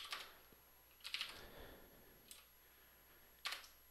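Scattered keystrokes on a computer keyboard come in a few quick bursts of clicks, fairly faint, with short pauses between groups and no talking.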